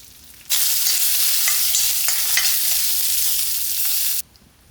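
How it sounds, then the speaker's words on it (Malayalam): Mustard seeds and dried red chillies hit hot coconut oil in a pan, bursting into a loud, steady hiss and crackle that starts abruptly, holds for about four seconds with small pops, then cuts off. "വെളിച്ചെണ്ണ ചൂടായി. കടുക്, പിന്നെ നമുക്ക് വറ്റൽ മുളക്,"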